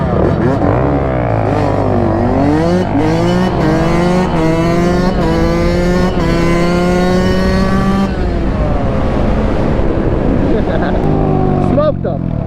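Two-stroke dirt bike racing, its engine loud and close with rising and falling revs as it accelerates and shifts, a steady buzzing drone throughout with voices in the background.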